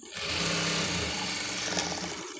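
A sewing machine stitching the front panel of a blouse, a close, loud, continuous mechanical buzz and rattle lasting a couple of seconds, with no speech over it.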